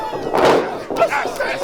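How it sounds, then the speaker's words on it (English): A wrestling crowd at an event cheers and roars loudly throughout, a dense wash of shouting voices with a brief dip in the middle. "All this crowd's getting fired up for Dustin Nguyen."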